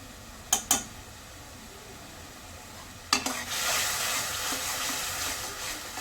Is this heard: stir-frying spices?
yes